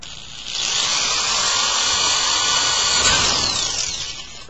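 Power drill boring holes through a metal filing cabinet for hinge mounting, a steady high-pitched whine lasting several seconds, close and loud, with no talking.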